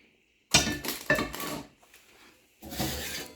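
Pans and cast iron cookware handled in a kitchen: a close burst of clanks and metallic scrapes, a brief pause, then another rattling clatter.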